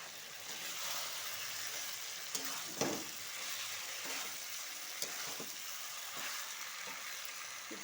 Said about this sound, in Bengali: এবার দিয়ে দেবো এর মধ্যে ভেজে রাখা পটল আর আলু